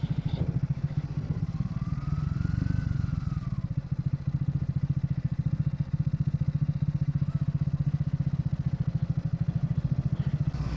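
A motorcycle ridden on a foggy mountain road between Darjeeling and Siliguri, its engine a steady, close, pulsing drone throughout with a brief swell in revs early on and light clatter.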